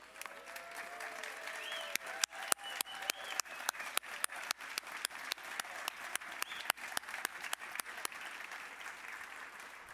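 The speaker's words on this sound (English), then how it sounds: "Would all of you please stand for a round of applause?" Audience applause for board members at a children's charity award event, a continuous even clapping with sharper individual claps standing out, lasting about ten seconds without talk.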